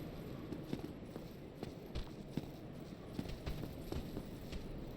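Footsteps approaching in the game Dark Souls, a steady series of quiet, regular thuds with a hoof-like clop, faint and evenly paced against a low background hum.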